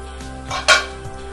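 On a stovetop, a metal lid is lifted off a pot of prawn curry with a single bright clank, followed by faint scraping of a spoon stirring over a steady low hum.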